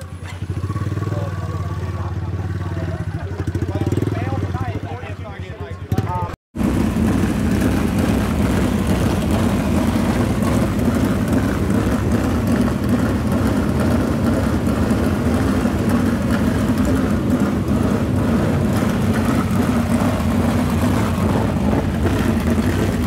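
Race cars circling a dirt oval at a sprint car event in Stockton, packing the track to build engine heat; a dense, loud roar of many engines droning steadily after a brief quieter start and a sudden cut.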